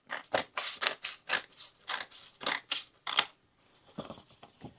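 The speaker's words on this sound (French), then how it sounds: "je vais couper le papier" Scissors cut paper in a run of about a dozen crisp, close snips in quick rhythm, fading to a few softer snips at the end, with no talk.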